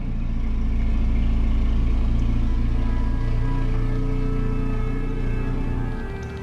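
A car engine runs at a raised, steady idle just after starting, a loud close rumble with a constant hum that holds evenly before easing slightly at the end, with no voices.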